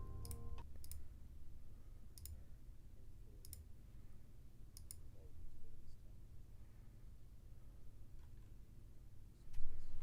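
Quick, scattered keystroke clicks from a computer keyboard, a few sharp taps spread across the stretch over a low steady background hum, with a person talking at a low level underneath.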